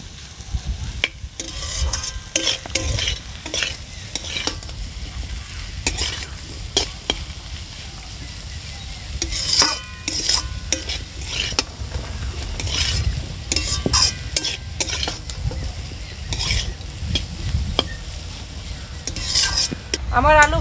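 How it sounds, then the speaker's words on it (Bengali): Potatoes fry with spices for an egg chochchori curry, crackling under a spatula that scrapes and knocks against the pan in repeated uneven strokes, close and fairly loud. "এখন হালকা হালকা ভেজে নেব।"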